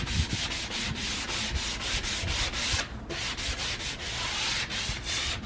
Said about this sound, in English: make sure when you're sanding it, you go with the grain and not against it